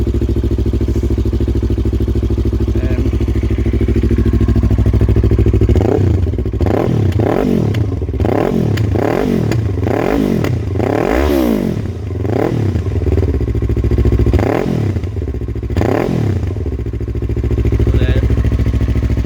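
Yamaha R3 (2018) motorcycle engine started on choke, idling loud and close with repeated sharp revs rising and falling in a choppy rhythm through the middle, then settling back to a steady rumble.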